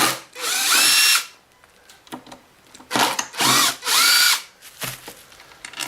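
A power drill whirs in several short close bursts while it removes bolts from a Kirby vacuum cleaner, with quiet handling noises between the bursts.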